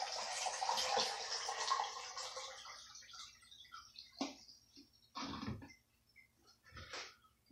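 Liquid poured into a black-and-white film developing tank, a steady broad wash of pouring for about three seconds, then quieter sloshes and trickles in short bursts.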